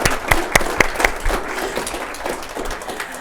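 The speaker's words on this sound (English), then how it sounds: "A special round of applause there." Audience at a panel event on the first 100 days of the Biden administration applauds the speakers, a dense patter of many hands with a few sharper claps early on, fading gradually over a few seconds.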